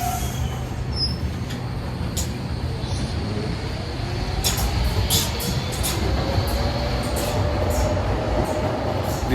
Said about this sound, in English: This train is going to Bank.